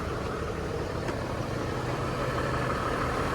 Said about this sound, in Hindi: साथ एक डीजल इंजन की आवाज़ आपको आ रही है